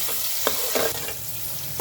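Onions fry in a pan for cabbage fry, a close steady sizzle broken by a few scraping stirs of the spatula, with no voices.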